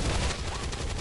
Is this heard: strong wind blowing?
no